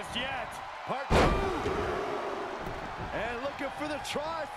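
A wrestler is slammed to the mat by a suplex in the WWE 2K22 video game, one loud heavy impact near the start followed by crowd noise and commentary continuing underneath.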